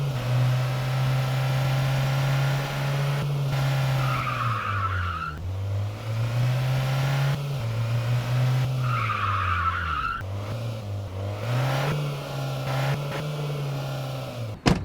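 Engine of a car in the Car Dealership 2 video game, freshly serviced, droning steadily at high speed, its pitch dipping and climbing through gear changes, with long tire skids and squeals layered on top and no talk.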